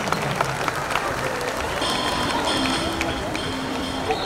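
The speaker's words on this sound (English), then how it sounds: "big round of applause to our officiating crew this evening" Applause for the officiating crew at a high school basketball game between the Elks and the St. Johns Redskins, a steady crowd clapping in a gym under an announcer's voice over the PA.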